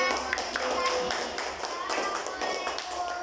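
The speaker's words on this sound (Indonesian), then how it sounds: "berikan tepuk tangan untuk kelompok" Classroom group of students applauding their classmates' group presentation, a light, loose scattering of claps with some chatter and voices mixed in over a few seconds.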